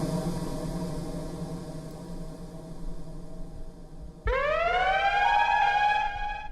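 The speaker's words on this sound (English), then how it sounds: "You hear that noise? That's the airdrop." An airdrop siren sound effect from a Roland SP-404 sampler, a loud rising and wailing siren that bursts in suddenly over a busy lower background and holds to the end.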